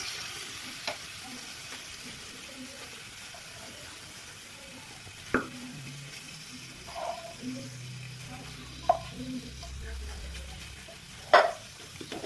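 Chicken pieces frying in ghee with onions, a soft steady sizzle with occasional clinks and scrapes of stirring, quiet and close throughout.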